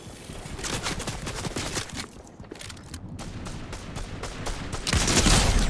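Rapid gunfire in a Fortnite battle, with loud, dense bursts of shots overlapping almost continuously and a heavier surge of blasts near the end.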